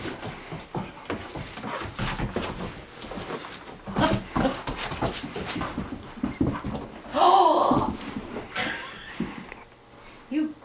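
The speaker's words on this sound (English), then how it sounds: "Crazy puppy, get over here." A playful puppy fetching yips and whimpers, with scuffling and patter of movement and a louder burst of play noise midway, amid ambient outdoor sound.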